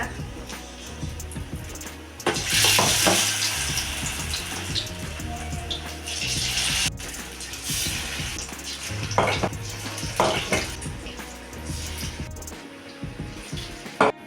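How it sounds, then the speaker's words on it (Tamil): Broccoli florets dipped in batter deep-fry in hot oil over a medium flame, a loud, steady bubbling sizzle that swells as pieces drop in, with occasional clinks of a utensil stirring. "நல்லா கோல்டன் கலர் வர வரைக்கும் ஃப்ரை பண்ணி எடுத்துக்கோங்க"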